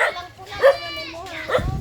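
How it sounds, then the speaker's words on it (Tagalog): An angry dog barks in sharp, loud bursts, three close barks spaced about a second apart, while a person talks over them. "Galit na galit yung aso mo, baka kagatin ako."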